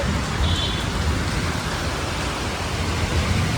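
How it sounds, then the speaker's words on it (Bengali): Heavy rain pours during a storm, a loud, constant roar of hiss that stays steady and close for the whole stretch. "জোরে বৃষ্টি হচ্ছে"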